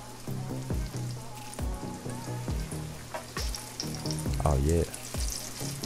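Steady crackling sizzle of dredged pollock fish frying in hot oil in a pan, close and continuous, with a few clinks and a brief spoken exclamation over it.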